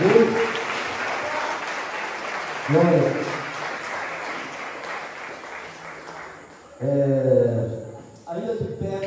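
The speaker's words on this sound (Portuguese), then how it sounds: "Queria que você aplaudisse o Senhor a palavra de Deus." A church congregation at a retreat bursts into applause, loud and close. Bursts of clapping rise and fall between short spoken phrases from a preacher.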